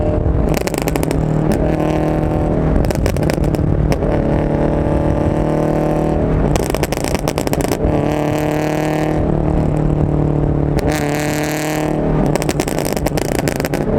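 An E85-fuelled car engine revs hard in repeated bursts with a flame kit fitted, loud and close, its pitch climbing and falling between throttle blips throughout.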